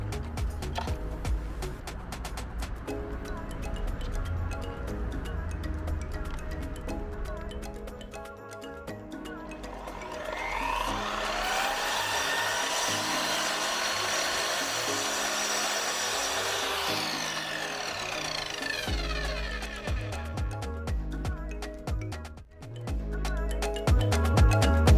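A power saw cuts the bathroom floor panel of a bus being converted into a camper. There is clattering handling first, then a sustained loud whine from the cut, and the saw spins down at the end.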